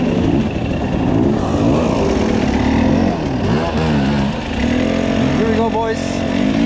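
Enduro motorcycle engine revving and changing pitch on a singletrack trail, loud and continuous throughout, with a brief rising rev burst near the end and rider voices mixed in.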